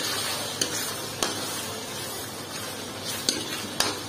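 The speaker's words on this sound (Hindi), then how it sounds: "प्याज को ब्राउन होने तक हम इसी तरह हम सलसल चूल्हे पे पकाते रहेंगे" Chopped onions fry in a pot on a stove for biryani, a steady close sizzle with a few sharp clinks of a utensil stirring against the pot, no voices.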